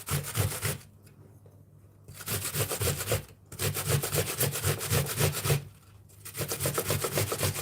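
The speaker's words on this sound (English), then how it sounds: "I use the grater. Damn, I use the grater." A kitchen grater scrapes food in quick rhythmic strokes, close and rasping, in bursts separated by short pauses.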